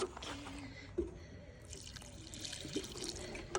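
A watering can pours water onto a June vegetable garden, giving a soft continuous splash and trickle with a few louder drips, close by and fairly quiet.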